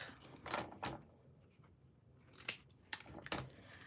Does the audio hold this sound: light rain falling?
no